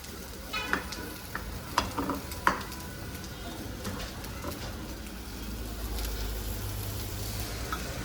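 Homemade butter sizzles softly in a pan with a low, even frying hiss, while a few sharp clicks and taps come in the first few seconds.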